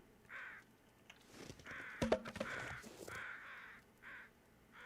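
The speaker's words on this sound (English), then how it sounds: "Yes, I hear you, crows." Crows caw in The Long Dark video game, a few harsh calls repeating at a moderate distance over a quiet wintry game ambience.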